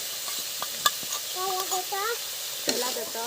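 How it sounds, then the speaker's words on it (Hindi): Spices, including home-ground red chili powder, stirred and fried in a pan, giving a soft steady sizzle with light scraping strokes while a voice talks faintly nearby. "और इधर एक एक करके सभी मसाला डालने के बाद हम फ्राई को मसाले अच्छे से फेंट लिए"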